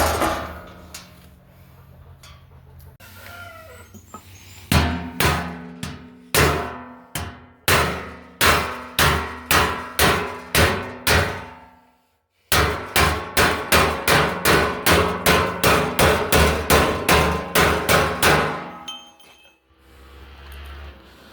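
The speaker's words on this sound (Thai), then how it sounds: "เอาไม้มาลองแล้วก็เอาค้อนทุบนะครับ" Repeated ringing hammer blows on a metal trailer truck fender, struck in a steady rhythm, with a brief pause before another long run of sharp, clanging hits.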